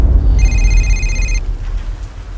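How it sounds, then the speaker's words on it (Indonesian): Telephone ringing in a spooky bedtime story: a single electronic tonal ring lasting about a second, loud and close over a low rumbling background resembling rain or thunder, then falling silent. "Akan tetapi, tiba-tiba teleponnya berbunyi."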